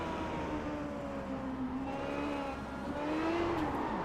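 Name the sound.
race car engine at high revs in video game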